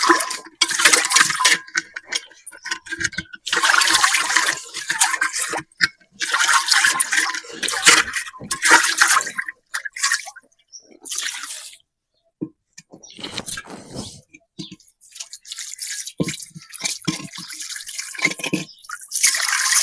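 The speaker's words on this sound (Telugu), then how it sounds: "దానికనే కొన్ని నీళ్ళు పోసి అయితే నీట్గా కడుగుతాను" Water is poured and splashed while washing a blackened clay pot, in several bursts of splashing and trickling broken by short pauses.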